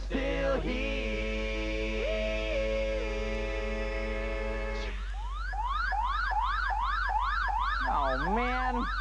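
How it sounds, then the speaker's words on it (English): Alarm siren sound effect in a radio comedy show, first a steady electronic tone with a brief pitch dip, then a rapid rising and falling electronic wail cycling several times, loud and close. "It's the CanCon alarm."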